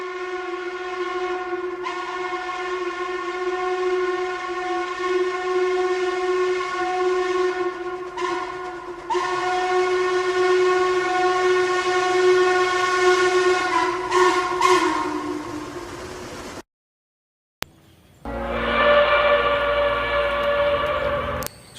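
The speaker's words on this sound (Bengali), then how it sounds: "যেন আমাদের কানে ভেসে আসছে ট্রেনে সেই পুরানো হুইসেল" An old train's steam-style whistle sounds in long sustained harmonic blasts, loud and close, broken by a brief pause before a shorter final blast as the train rumbles past.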